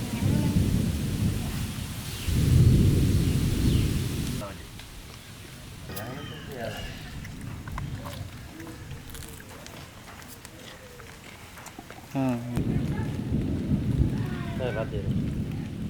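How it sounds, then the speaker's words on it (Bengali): Heavy rain pours down steadily with rumbling, gusty surges, while voices talk intermittently beneath the downpour. "বৃষ্টি অলরেডি খুব জোরে পড়তেছে"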